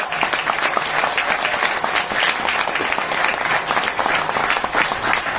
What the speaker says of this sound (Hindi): तो उनके लिए तालियां।